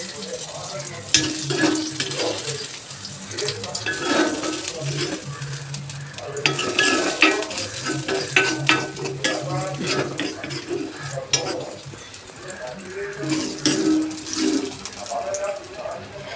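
A spoon scrapes and stirs through a sizzling prawn mixture in a pan, with steady frying crackle and occasional clinks of utensil on metal.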